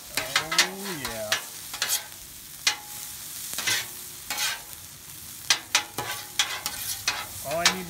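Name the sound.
onions stirred and frying in butter in a pan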